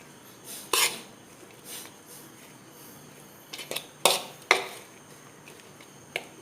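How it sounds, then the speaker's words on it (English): A spoon stirs paneer stuffing with chopped coriander in a bowl, giving a few sharp, scattered clinks and scrapes between quiet pauses. "Now we're gonna mix this, and our stuffing is ready."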